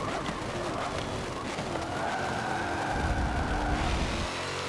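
A race car in Forza Motorsport 7 drives an endurance race, its engine whining continuously at moderate volume with shifting pitch and tire noise underneath.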